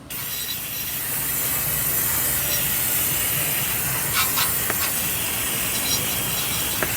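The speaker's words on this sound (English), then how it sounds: "What we call Niagara Falls in a can, the brake parts cleaner. All we do is just spray her down." Brake parts cleaner sprayed from an aerosol can onto an engine, a loud continuous hiss that holds steady for several seconds with a few faint clicks and taps underneath.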